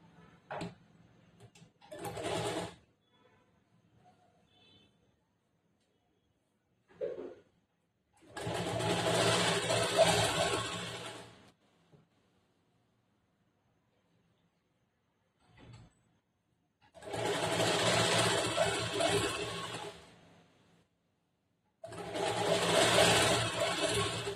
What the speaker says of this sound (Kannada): ಹಿಂಗ್ ಮಾಡಿ ಇಲ್ಲಿ ಎಡ್ಜಿಗೆ ಒಂದು ಹೊಲಿಗೆ ಹಾಕ್ತೀನಿ